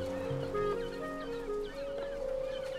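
Birds clucking in the game Broken Age, a run of soft, overlapping clucks and chicken-like calls over a low background hum, fairly close and continuous for a few seconds.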